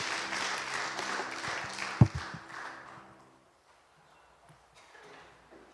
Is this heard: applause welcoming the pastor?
yes